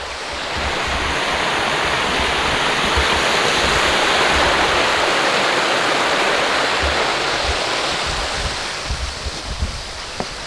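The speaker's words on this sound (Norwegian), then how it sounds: "Det er en veldig fin bekk." A steady, loud rush of flowing water fills the whole stretch, a continuous broadband wash like a brook tumbling over stones close by.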